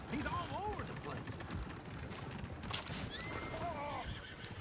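Several whinnies and neighs from horses in Red Dead Redemption 2 ring out clearly over a busy background of hoof clatter, with voices talking in between.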